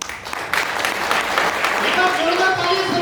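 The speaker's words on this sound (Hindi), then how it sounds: "जोरदार तालियां सभी साथियों के लिए," Seminar audience in Greater Noida breaks into applause, a dense continuous patter of many hands that swells after a moment and carries on steadily, with voices and talk mixed in over it.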